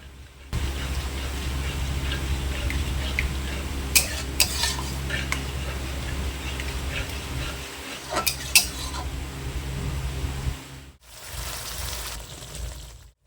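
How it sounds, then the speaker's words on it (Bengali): Spiced masala with sour yogurt is stirred and fried in a pan, giving a continuous soft sizzle under frequent scraping of a spoon and metal clinks, with a brief quieter pause near the end. "টক দই দিয়ে ভালো করে মশলাটাকে আবার কষে নেব।"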